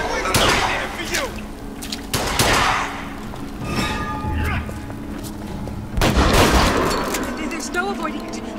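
Gunfire in the video game BioShock Infinite, Burial at Sea DLC: several loud booming shots and bursts with rumbling tails, heard up close amid game ambience and some character voices.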